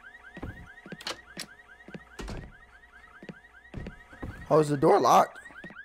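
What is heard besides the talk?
car alarm going off in a horror video game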